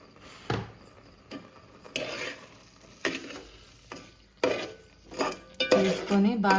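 A spoon scrapes and clinks against a pot while sugar is stirred into a kalakand milk mixture, coming in irregular bursts of metallic knocks and scraping with brief pauses between strokes.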